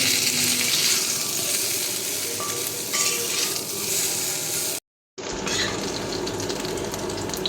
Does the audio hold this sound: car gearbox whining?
no